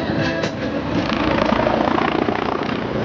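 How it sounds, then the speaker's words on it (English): Loud, close MBB BO-105 helicopter noise at an air show, a dense roar with steady rapid rotor thumping throughout. "So his helicopter is an MBB BO-105, designed primarily for the German Army."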